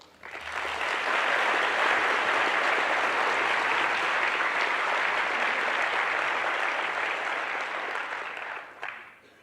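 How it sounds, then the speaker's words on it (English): Sustained applause from a large audience at the opening ceremony of the 2024 IAU General Assembly in South Africa, a dense even roar of clapping that rises quickly, holds steady, then stops abruptly. "Please give IAU a round of applause for that."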